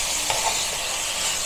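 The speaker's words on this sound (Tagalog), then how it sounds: "Haluin natin, halo-halo." Sautéed bitter gourd and pork are stirred in a pan, giving a loud, steady sizzle and hiss with a soft scrape now and then. Nobody talks.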